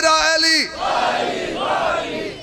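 At a religious rally in Sultan Pura, Sargodha, a single loud voice calls out a slogan and a large crowd answers with a roaring chant that swells and carries on.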